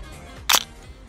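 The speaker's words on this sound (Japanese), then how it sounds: "こうシャッターを切ると幕が、これは横走りフォーカルプレーンって言って横に走るタイプのシャッターになるんですけど" A horizontal-travel focal-plane shutter on a spring-driven film camera releases with one sharp, close mechanical snap in a quiet room.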